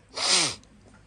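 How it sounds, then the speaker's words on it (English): A single sharp human sneeze, close and fairly loud, lasting about half a second against a quiet background. "excuse me, I'm going to sneeze"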